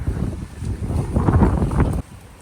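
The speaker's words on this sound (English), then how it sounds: "So it's windy, Lane." Gusty wind buffets the microphone with a loud, rumbling roar that swells and then drops off abruptly.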